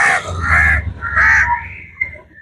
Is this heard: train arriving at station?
no